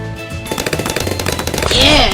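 Cannon towers in the Bloons TD video game fire a dense, rapid run of loud thumping blasts, swelling into a busy, noisy wash of game effects near the end.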